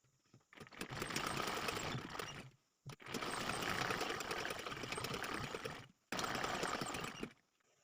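A sewing machine runs in three bursts of rapid stitching along a choli blouse neckline, each a dense, even mechanical whir with brief pauses between runs, recorded close and with no talk.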